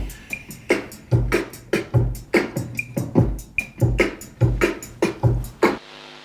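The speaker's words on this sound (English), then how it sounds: "So right now, here's just the drum track." A drum beat plays alone at a relaxed tempo, with punchy kicks and crisp snare and hi-hat hits in a steady repeating pattern.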